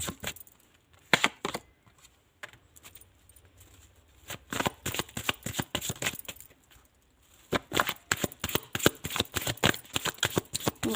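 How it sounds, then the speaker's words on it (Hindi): Playing cards handled and shuffled up close, bursts of rapid riffling flutter separated by short pauses and softer handling noises, no talk. "कार्ड और लेती हूँ यहाँ से"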